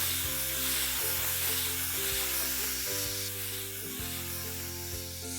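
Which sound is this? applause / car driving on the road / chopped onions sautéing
chopped onions sautéing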